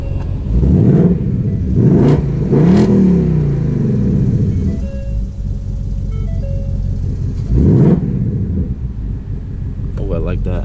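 A 2024 Ford Mustang GT active exhaust roars through several sharp revs, rising and falling, loud and close, with a deep burbling idle between them and some voices.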